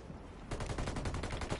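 A burst of rapid video game gunfire erupts after half a second of quiet, a close, loud string of shots continuing steadily to the end.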